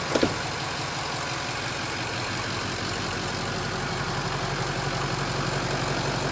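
A 6.0 Powerstroke diesel engine from a rolled-over truck, sitting 12 years with 89,000 miles, idling smoothly and evenly after a couple of brief knocks at the start, a steady, fairly quiet close rumble.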